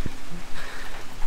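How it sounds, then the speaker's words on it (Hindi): Steady rain falls during a hike on a forest trail near Nathia Gali toward Mushkpuri Top in Pakistan, a brief close wash of pattering drops. "और बारिश भी नहीं रुक रही।"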